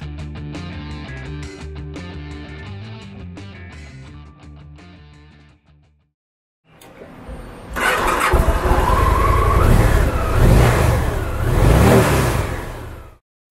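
A 2010 Victory Vision 8-Ball motorcycle with a 105 cubic inch V-twin engine, heard after some music fades out: the engine cranks and catches, then settles into a loud, throbbing close-up run with revving swells.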